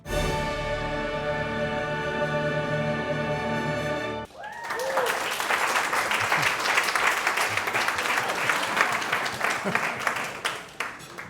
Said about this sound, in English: give another round of applause to that video